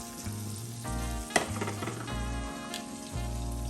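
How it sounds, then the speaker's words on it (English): Thinly sliced onions sizzle and fry in butter in a pan, a steady close hiss with a sharp crackle and stirring scrapes partway through, under a low background hum. "Go ahead and toss our onions in the pan."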